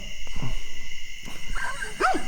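Dogs barking near a motorcycle campsite on a Harley Heritage Softail trip to Sturgis, a few separate barks and yelps spaced out across the moment, moderately close with quiet night background between them.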